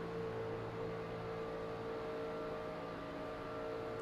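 Racing trucks in a video game run near full throttle around an oval track, making a steady, droning engine whine with sustained tonal pitch, continuous and even in loudness, with no talk.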